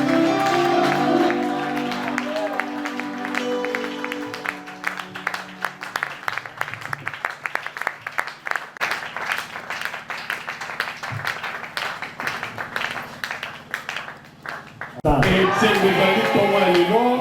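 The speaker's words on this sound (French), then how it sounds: "On acclame le Seigneur très fort." A church congregation at a Sunday service claps and cheers loudly in praise, a dense, sustained rattle of many hands over music, swelling again at the end.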